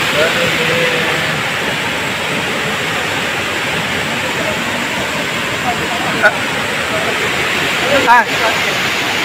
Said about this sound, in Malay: Pokoknya lah kita udah sampai ke air terjun.